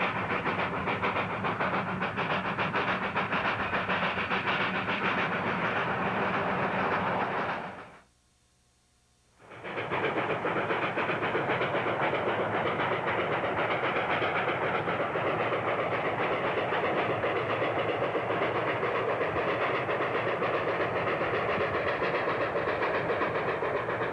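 A Rio Grande Southern railroad train runs with a continuous rumbling, rattling clatter and hiss, broken by a brief silent gap before the rolling noise resumes, steady and fairly loud throughout.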